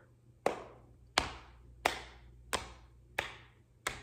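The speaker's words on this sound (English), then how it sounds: "And we're going to clap." Six hand claps ring out one at a time, evenly spaced at a slow steady pace during an early-childhood music lesson, crisp and close in a quiet room.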